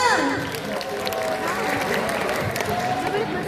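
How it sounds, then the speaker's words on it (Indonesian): Audience clapping at a school Ramadan religious literacy event in Jakarta, mixed with voices and crowd murmur; the clapping runs continuously under a prominent speaking voice. "Beri tepuk tangan lagi dong"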